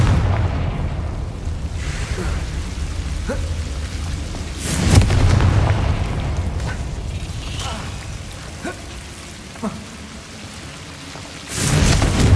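Confringo fire spell blasts in Hogwarts Legacy: two booming bursts several seconds apart over a continuous crackling, rumbling background.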